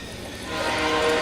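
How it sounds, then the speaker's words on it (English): A train rumbles past outdoors during backyard cooking, a loud, steady, broadband roar that swells over a little more than a second with no other sound standing out. "Oh, we got a train."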